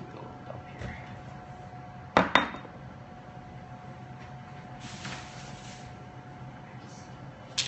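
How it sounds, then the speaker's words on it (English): Coffee being stirred inside a brewer after pulling off its top, giving light scattered clinks and taps of utensil against the vessel, with two sharper knocks standing out over a quiet room hum. "I'm going to pull the top off and give it a little stir on the inside as that finishes."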